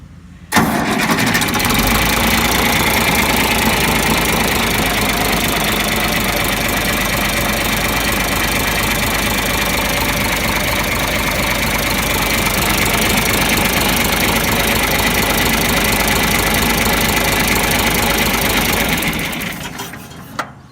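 A tractor engine, rebuilt after being locked up, starts with a sharp burst and then runs loud and steady at a rough, knocking idle for nearly twenty seconds before cutting off.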